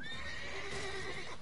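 Roach, a horse in The Witcher 3, gives one short, clear neigh that rises and wavers, with faint hoof clopping underneath.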